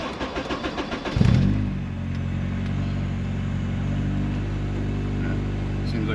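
K-swapped Honda Civic EM1 cranking for a second before catching, then settling into a steady, moderately loud idle, after an earlier cold start where it stalled without revving.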